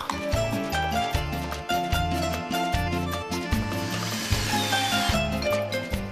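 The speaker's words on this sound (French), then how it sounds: "Il y a des trous préforés tous les 30, donc je visse tous les 60 cm" Screws being driven into a profile with a power tool through pre-drilled holes, repeated short whirring bursts in a choppy rhythm, close and fairly loud.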